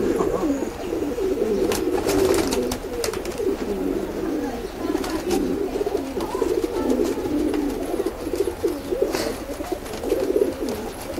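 Many pigeons coo in a continuous murmuring chorus nearby, with occasional sharper clicks and flutters mixed in.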